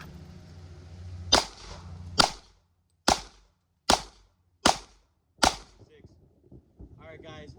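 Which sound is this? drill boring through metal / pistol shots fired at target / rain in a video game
pistol shots fired at target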